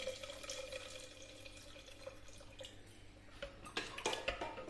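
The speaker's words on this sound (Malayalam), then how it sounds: "അപ്പോൾ ഒന്ന് നികയ്ക്ക് വെള്ളം ഒഴിച്ചു കൊടുക്കാം" Water poured into a pressure cooker while making raw mango rasakootu, a soft running splash that swells into louder bursts of pouring near the end, faint and close with no talking.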